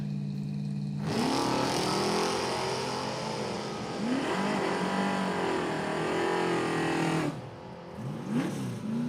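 A Corvette launches down a drag strip with a sudden loud roar that climbs through several rapid upshifts, holds a sustained high-revving howl, then cuts off abruptly before a brief blip.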